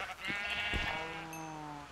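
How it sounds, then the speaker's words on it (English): Black sheep in Minecraft bleat in a loud, wavering cry that fills nearly two seconds, starting with a few short broken bursts before settling into one long drawn-out bleat. "I'm killing a bunch of uh, black sheep."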